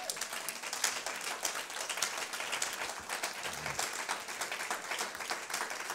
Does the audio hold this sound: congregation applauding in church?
yes